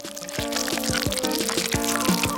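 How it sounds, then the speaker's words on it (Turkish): Cream poured over a bowl of ice cream during a plate challenge: a close, continuous pouring stream with small wet glugs and drips, steady and moderately loud, with no voices over it. "Hemen üzerine krema dökmeliyim."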